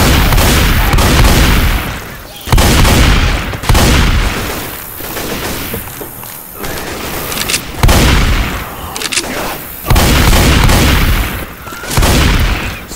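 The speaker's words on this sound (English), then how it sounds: "Okay, we'll set off the pyrotechnics" Pyrotechnics fire off in a Left 4 Dead 2 carnival concert arena as a string of loud, heavy booms, each followed by a crackling, ringing tail, repeating roughly every couple of seconds.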